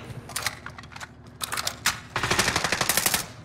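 Gunfire in the battle-royale shooter Warzone comes as bursts of rapid automatic shots, first broken into short volleys and then a longer sustained stream of fire, loud and close with no one talking.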